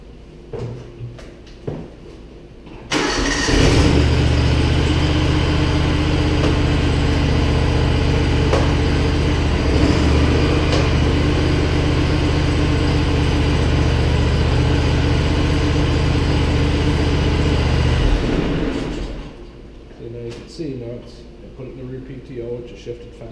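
A Simplicity Legacy XL garden tractor engine starts abruptly after a few quiet clicks and idles at a loud, steady rumble for about fifteen seconds before shutting down, with faint handling noises on either side.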